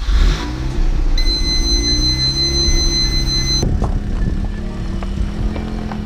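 A Mazda RX8 rotary engine starting up and idling, its steady humming drone followed by a sharper change as the car begins to move, close and loud with no talking.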